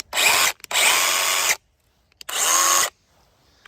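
An electric saw cuts through wood in three loud, sustained bursts of high whining buzz, separated by short silences, with no talking.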